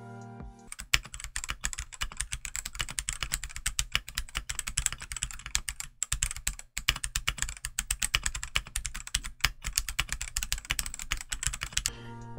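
Stock Red linear switches on a Redragon K673 75% three-mode mechanical keyboard with a knob, typed in a steady fast run of clicky, slightly pingy keystrokes for about twelve seconds, close and clear with no talking.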